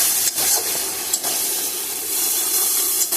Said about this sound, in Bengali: পেঁয়াজটা একটু ভাজা হয়ে যাওয়ার পর একটু জল দিয়ে পেঁয়াজটাকে মজিয়ে নিচ্ছি